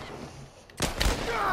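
Burst of gunfire from The Last of Us, a sudden loud volley that breaks in after a quieter stretch and carries on through the rest, with a sharp crack near the middle.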